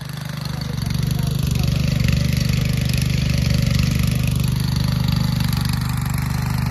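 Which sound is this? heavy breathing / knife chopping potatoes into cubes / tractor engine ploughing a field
tractor engine ploughing a field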